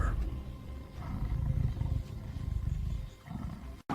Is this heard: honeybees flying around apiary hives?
no